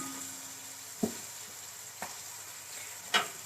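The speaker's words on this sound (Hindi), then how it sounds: "उसको कट किया और 1/2 कप ऑयल में डालूंगी।" Chopped onion frying in half a cup of oil gives a soft, low sizzle for chana pulao, broken by three distinct spatula knocks against the pot.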